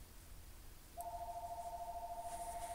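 A house telephone rings: a quiet electronic tone starts after a second of near silence, then pulses steadily and rapidly until the end, alone with no voices.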